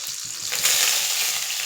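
Green chillies and curry leaves with cumin sizzle in hot oil in a frying pan, a dense, steady crackle up close that swells slightly partway through.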